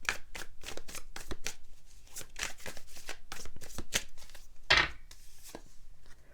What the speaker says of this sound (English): Let's draw a few more cards for you.